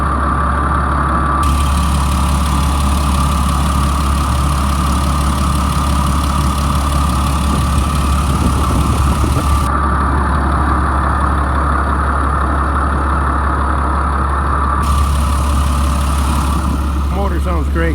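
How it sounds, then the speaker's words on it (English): A 2004 Blue Bird All American 72-passenger school bus engine idles loudly and steadily at close range, a constant deep rumble with a hum that shifts once or twice, and someone talks over it. "The motor sounds really good."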